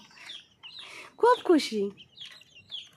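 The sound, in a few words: chicken chicks clucking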